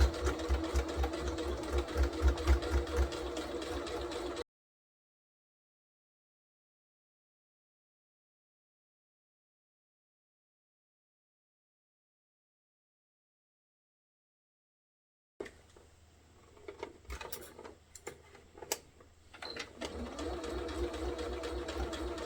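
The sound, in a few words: sewing machine stitching a seam on a bag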